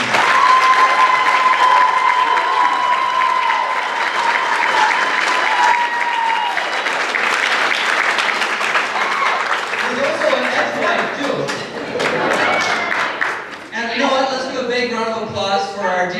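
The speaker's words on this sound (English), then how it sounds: "So please, give a big round of applause for her." Sustained audience applause fills a gala hall, dense and steady throughout, with voices and a few cheers mixed in and crowd chatter rising near the end.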